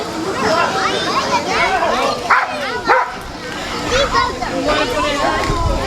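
A police K9 dog named Odin barks and yips in short, loud bursts at an outdoor community crime-prevention night, with crowd chatter and children's voices all around.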